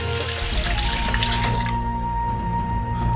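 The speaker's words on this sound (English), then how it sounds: "Wash your hands." Running tap water while hands are washed at a kitchen sink, a steady loud splashing flow with a faint tonal hum beneath, no talk.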